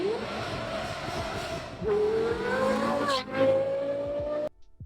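A supercar engine revs hard and accelerates past in rising, whining sweeps, with a brief dip before a second surge, loud and close, then cuts off abruptly near the end.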